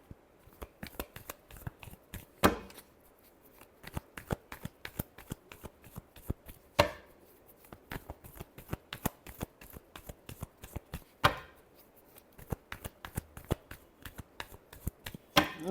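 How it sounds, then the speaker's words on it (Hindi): Tarot cards are shuffled by hand close up, giving a continuous patter of quick riffling flicks with a few sharper slaps and taps along the way, all soft and steady with no talking. "Last shuffle."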